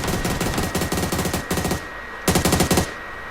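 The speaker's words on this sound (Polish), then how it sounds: "Tam się jeszcze strzelają." Automatic gunfire in the PUBG video game, rapid bursts of loud shots in quick rhythmic volleys, a pause, then another short burst close by.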